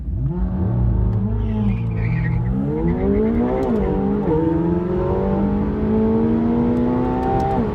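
A McLaren 720S or Lamborghini Performante supercar pulls at full throttle, its engine note rising loud and close through several gear changes with a steady, sustained roar.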